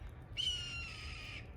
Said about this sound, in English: maybe a red-tailed hawk or something in that tree. Sure making a lot of noise.